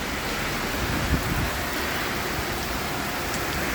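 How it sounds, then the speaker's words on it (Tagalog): A heavy tropical downpour roars constantly and evenly, a thick wall of hissing rain with no voices or pauses. "Grabe, lakas ng ulan."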